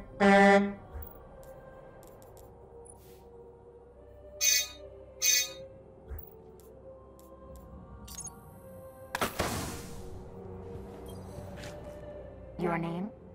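Vehicle horns for sparrows in the video game Destiny sound in a series of short, separate blasts of differing lengths and tones, spaced out over several seconds with quieter stretches between.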